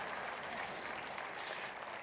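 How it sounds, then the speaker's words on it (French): A church audience claps in applause, a soft, even patter of many hands heard faintly and at a distance, holding steady without pause. "Applaudissez cette femme, une sainte femme."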